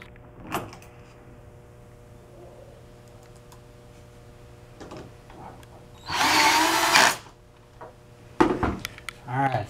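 A cordless power drill driving screws whirs in a short, loud burst, then another brief spin, with small clicks and handling noises between.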